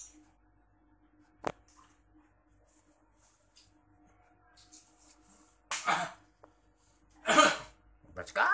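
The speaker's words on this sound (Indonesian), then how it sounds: "Bisa batuk-batuk mengeluarkan toksin-toksin yang ada di dalam tubuhnya itu ya" A few short, harsh coughs burst out near the end after a mostly quiet stretch with a faint click.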